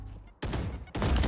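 Two bursts of gunfire from Valorant, the first starting partway in and a louder, fuller one close behind, both sharp and near with no voices over them.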